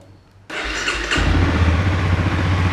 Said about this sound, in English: Let's start the bike up, just so I don't kill my battery.